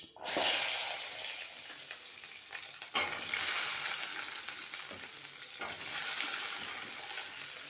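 Onions and garlic sautéing in oil for a fish curry, a steady close sizzle with stirring scrapes, briefly interrupted as the pan is handled, with no speech.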